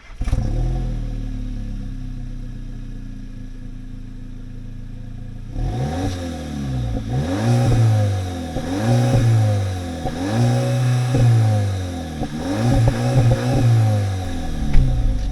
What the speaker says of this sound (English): let's get this car started up and go for a drive